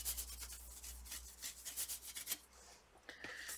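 A brush sweeps over the back cover of a Huawei MateBook D NBL-WAQ9R laptop, making quiet, close scratchy rubbing strokes in a steady series that pauses briefly before a few final sweeps.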